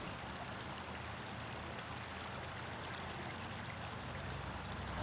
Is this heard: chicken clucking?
no